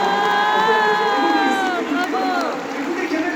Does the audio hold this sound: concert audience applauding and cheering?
yes